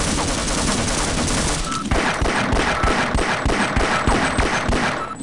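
Rapid automatic gunfire from a weapon in Half-Life, a loud, close burst of evenly spaced shots firing continuously for several seconds over a noisy game background.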